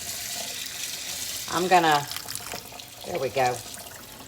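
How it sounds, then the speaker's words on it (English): Cold water runs steadily from a kitchen tap as a hiss under the whole stretch, while a person talks over it in two short bursts. "I've got cold water going."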